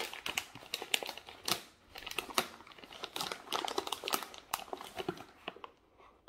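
Plastic packaging of fruit being peeled and torn open by hand, a run of close crinkling, crackling rustles with short pauses, no talk.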